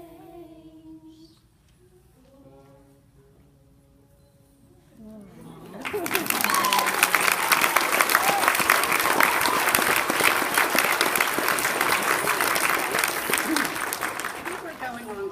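At a graduation, singing voices are heard at first, then the audience breaks into loud, sustained clapping that runs steadily to the end.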